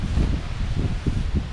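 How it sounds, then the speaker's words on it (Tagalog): Strong wind buffets the microphone at a hilltop mountain campsite before dawn, a steady low rumbling roar with gusting surges throughout, loud and close. "Sobrang hangin"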